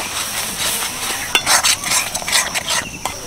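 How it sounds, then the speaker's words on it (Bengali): A spoon scrapes and stirs mango pulp, jaggery and milk powder in a pan, giving close, soft swishing and scraping with a few sharper clinks and a faint sizzle, without voices. "আমের পাল্প আর গুড়টা দিয়ে একটু নেড়েচেড়ে নিলাম।"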